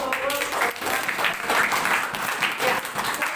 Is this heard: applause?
yes